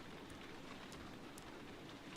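Rain falls outside at night in the video game Heavy Rain, a faint, steady hiss of downpour with a few scattered drop ticks and no voices.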